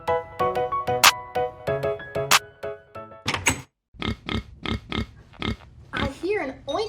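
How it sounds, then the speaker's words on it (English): A pig grunts and oinks behind a door in a barn setting, a series of short rhythmic snorts up close, mixed with other sharp animal calls and brief squeals. "I hear an oink oink sound coming from behind this door."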